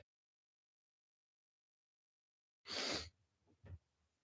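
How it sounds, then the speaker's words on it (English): A single sharp sneeze bursts out after a long silence, followed by a couple of short breaths or sniffs. "I gotta sneeze real quick"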